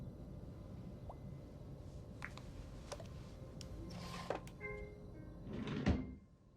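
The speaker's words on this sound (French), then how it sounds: "Mon chat fait la même chose. Il ouvre les tiroirs," A cat opening drawers makes several faint wooden knocks and slides over quiet background hiss, with scattered clicks and a louder rubbing scrape near the end, all without speech.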